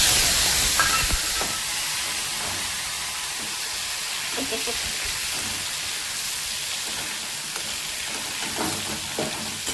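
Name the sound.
tomatoes added to hot pan with spices sizzling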